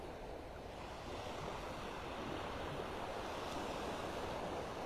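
Ocean surf rolls steadily onto a beach in North Naples, Florida, a faint continuous wash of breaking waves mixed with light wind rumble, heard from a distance.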